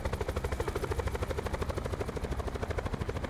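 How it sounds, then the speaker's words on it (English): A helicopter in Call of Duty Blackout thrums with steady, rapid rotor chops, close and loud, and the pulsing beat stays even throughout. "We got lucky to get another chopper though."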